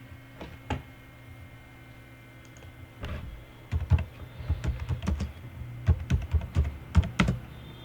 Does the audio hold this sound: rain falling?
no